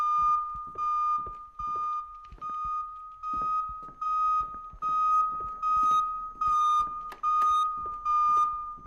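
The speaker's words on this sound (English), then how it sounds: "My fire alarm." A fire alarm in an indie horror video game beeps loudly and steadily, one high tone repeating in even pulses with short gaps, alone throughout.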